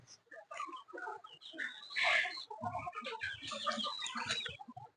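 Several sick chickens, unwell from the cold, clucking and squawking close by in a series of short irregular calls, one louder squawk near the middle.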